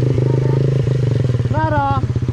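A motorcycle engine chugs in a steady throbbing idle close by, rising briefly in pitch as it pulls away, with a voice talking over it.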